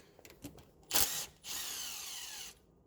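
A small impact gun works on a 10mm bolt on the AC compressor of a Ford Focus mk2. It gives a few short bursts, then a sharp, loud whir and a sustained spin of about a second, close and quiet overall.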